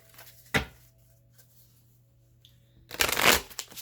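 A Rider-Waite holographic tarot deck is shuffled in two bursts, a short riffle near the start and a longer, louder riffle toward the end, with quiet between them.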